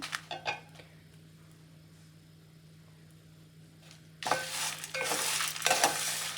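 Curry leaves and moringa leaves roasting in a pan, first a faint hiss with light stirring, then louder, closer scraping and rustling strokes of a spatula for the last couple of seconds.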